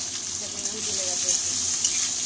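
Soybean curry frying in a pan, a steady loud sizzle that continues throughout with faint stirring underneath.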